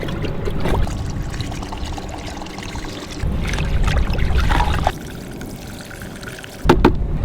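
Silage additive poured into lukewarm water in a container and stirred in by hand on a farm: splashing pours and sloshing bursts, close and fairly loud, with a final sharp splash and no talking.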